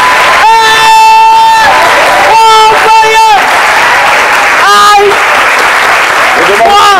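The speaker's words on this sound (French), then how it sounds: "un standing ovation offert par tous ces jeunes" A young crowd gives a minister a standing ovation at a live midday show, loud sustained applause with bursts of cheering and whooping voices rising in waves throughout.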